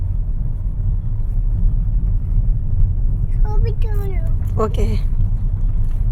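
A car being driven along a grassy rural road, a steady low engine and road rumble throughout, with voices speaking briefly partway through.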